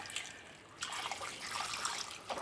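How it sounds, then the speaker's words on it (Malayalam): Water poured into a pot of ash gourd and pulses for Onam erissery, a faint, soft trickling splash that pauses briefly before running again at a low level. "ആവശ്യത്തിന് വെള്ളം കൂടെ ചേർത്ത് നമുക്കൊന്ന് വേവിച്ചെടുക്കാം"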